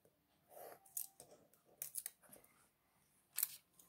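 Scissors trimming a cardboard card-trick gimmick box, with a few short, soft snips spaced through a quiet stretch, close by and faint.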